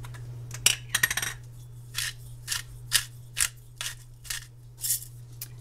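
A pepper grinder cranked over a pot of leftover roast chicken soup: a quick cluster of crisp, gritty grinds, then about eight evenly spaced rasping twists over a low steady hum.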